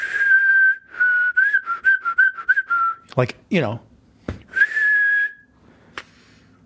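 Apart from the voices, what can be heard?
person whistling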